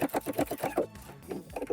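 A sewing machine runs in quick rhythmic bursts while stitching a curved seam on reworked shirt or dress fabric, with a short pause midway before the close, steady stitching resumes; no one talks.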